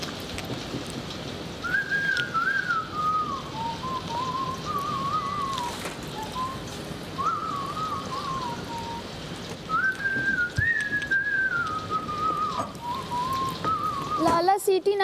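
A person whistles a wavering, meandering tune, clear and fairly close, over a noisy background resembling rain, with faint speech-like sounds mixed in.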